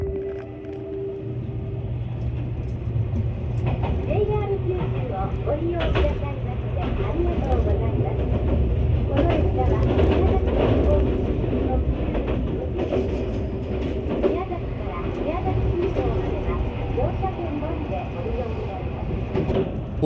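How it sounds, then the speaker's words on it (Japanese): A train departing Miyazaki station in Japan rumbles steadily along the rails with a low engine drone and rhythmic clatter, continuous and fairly loud throughout, with faint voices mixed in. "列車は宮崎を発車。"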